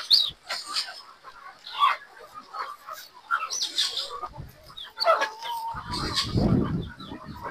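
Farm chickens, laying hens fed on plain concentrate, cluck and squawk nearby in scattered bursts and calls, with other birds chirping in the background and a brief rustle of activity near the end.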